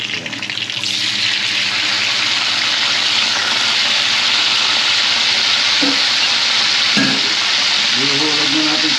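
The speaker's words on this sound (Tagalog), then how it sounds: "Then, magigisa na tayo ng" Garlic sizzles steadily in a hot pan for Filipino bistek, a loud continuous frying hiss with a few brief scraping stirs near the end.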